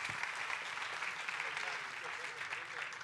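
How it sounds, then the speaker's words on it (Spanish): Church congregation applauds a speaker, a faint, steady wash of clapping heard from a distance at low level throughout. "Un aplauso a Pablo."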